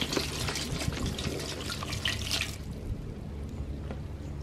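Water pours in a short splashing stream onto a Burpee coco coir expanding brick sitting in a bucket. The pour runs for about two and a half seconds, then tapers off to faint dripping and a quiet room.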